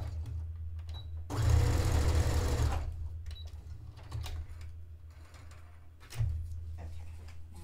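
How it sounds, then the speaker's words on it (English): A sewing machine hums in one loud, steady burst of about a second and a half as it stitches elastic into the casing of a dress sewn from bed sheets. Quieter handling clicks and fabric shuffling come before and after. "I'm going to stitch it into the casing so that it doesn't move"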